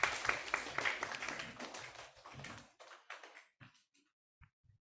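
An audience at an academic talk session claps together loudly for a couple of seconds, then the applause thins out into a few scattered, fading claps and taps before quiet.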